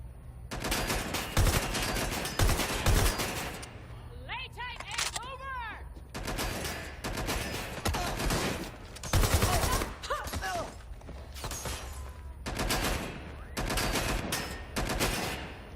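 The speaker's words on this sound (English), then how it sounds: "Gunfire! Repositioning!" Gunfire in Watch Dogs Legion: repeated loud bursts of automatic fire and single shots come in clusters, close and sharp, separated by short lulls with brief game voices.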